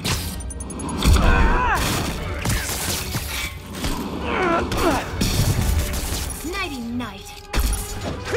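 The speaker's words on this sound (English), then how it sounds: "Grenade incoming!" A grenade goes off during a fight in Marvel's Spider-Man Remastered, with heavy booms, crashes and thuds hitting repeatedly amid whooshing action effects, and characters' voices shouting over the din.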